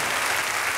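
Concert audience applauding for a Dominican merengue orchestra in Chile, a brief dense wash of clapping with no voices.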